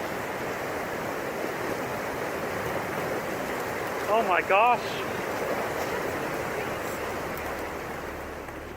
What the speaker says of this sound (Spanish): Una enorme ola de hielo y agua viene corriendo por el río y bajo un puente.